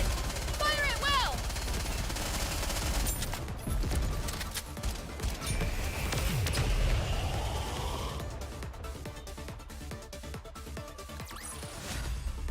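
Gunfire and crashing impacts in a fantasy video game battle, dense and continuous across a loud, busy mix with shouting effects and bursts layered throughout.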